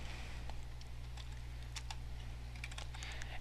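Keys clack on a computer keyboard in quick, irregular bursts of light taps over a low steady hum, close and fairly quiet.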